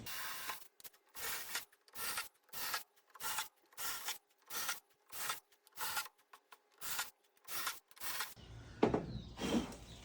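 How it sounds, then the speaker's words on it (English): A bit bores dog holes into a wooden workbench top, making about fifteen rhythmic, evenly spaced scraping strokes close by before a brief clatter at the end. "So I'm gonna go ahead and drill some holes"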